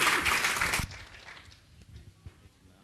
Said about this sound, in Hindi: एक बार हमारे डीपीएस जी के लिए भी अभिनंदन करिए तालियों के नाम से